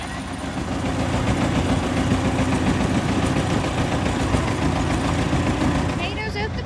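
A poorly running tractor engine during potato picking: loud, rough and steady with a knocking, vibrating rumble close by; no one speaks.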